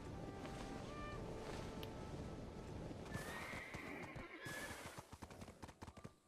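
A horse in the Black Desert Online video game whinnies once, clear and fairly close, over steady wind-like ambience, then hooves clop in a quick irregular patter as the background fades.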